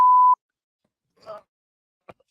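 A single loud, steady electronic beep from an office building fire alarm, lasting about a third of a second, followed by a brief muffled voice and a short thump.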